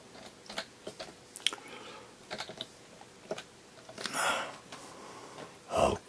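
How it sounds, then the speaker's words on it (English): Keys tap on a computer keyboard while someone works in the VirtualMec modelling software: scattered, close, soft clicks in short irregular runs, with a couple of louder breathy sounds near the end. "Type it in."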